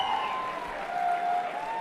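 Cheering from a stream plugin sound effect during a gaming stream: a steady, fairly quiet wash of crowd cheers and applause running the whole stretch without a break.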